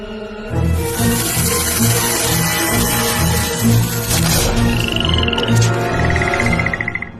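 Loud, rhythmic frog croaking repeating steadily, nearby and continuous, with a few higher chirps joining toward the end.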